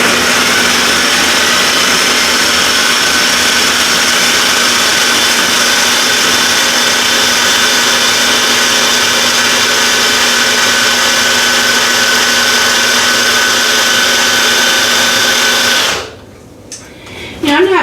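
A food processor grinds freeze-dried sweet potatoes into fine crumbs with a loud, steady motor whir and rattle that runs unbroken for about sixteen seconds, then cuts off abruptly.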